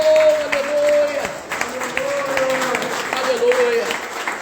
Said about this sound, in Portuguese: dá um aplauso forte para Jesus.